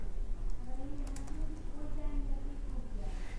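Someone types on a computer keyboard, a quick run of light clicking keystrokes that sits under a steady low background hum.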